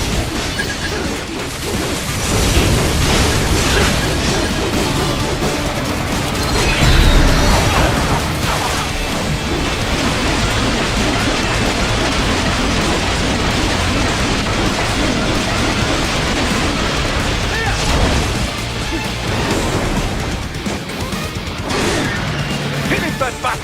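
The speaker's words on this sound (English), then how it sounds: "Use blade mode to take down those heavy missiles." Heavy missiles slashed apart by a sword-like blade in a fast action video game, with dense, loud crashing explosions and impact bursts rolling continuously over a busy soundtrack, a voice talking through the chaos.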